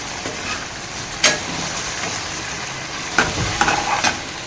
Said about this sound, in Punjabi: ਅੱਜ ਆਪਾਂ ਲੰਬੀ ਕੱਟ ਲਈ ਸੀ ਤੇ ਆਪਾਂ ਤੇਲ ਤੇ ਫਰਾਈ ਕਰ ਰਹੇ ਹਾਂ